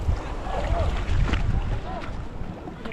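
A boat's diesel engine drones steadily with a loose, shaking mount, wind buffeting the microphone and a voice talking over the low rumble.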